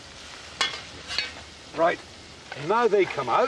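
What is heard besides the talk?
fritas sizzling in hot olive oil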